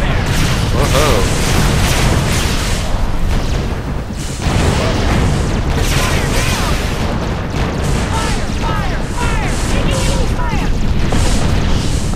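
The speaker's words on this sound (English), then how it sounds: "Taking enemy fire." Enemy weapons fire and explosions in the space strategy game Sword of the Stars 2 form a dense, continuous barrage of booms and bursts, loud and sustained, with voices talking throughout.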